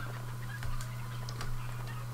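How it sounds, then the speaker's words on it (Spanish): Chickens in the video game Hunt: Showdown, a few faint clucks and gobbling calls scattered over a low steady hum, quiet and distant, no speech. "Mirad las gallinas, esto es una verdadera animalada"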